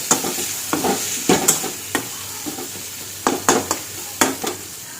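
A spoon stirs potatoes frying in spice masala in a pan, with a soft sizzle underneath and a series of sharp scraping knocks coming in uneven bursts.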